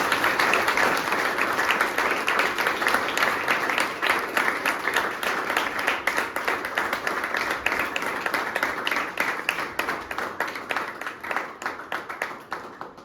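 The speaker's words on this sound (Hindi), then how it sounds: "तालियां हो जाए जल्दी से।" Applause from an audience at a gathering of a Dehradun addiction recovery centre, marking a member's first year sober: dense, steady clapping that stays loud and even for about thirteen seconds, with a few voices under it.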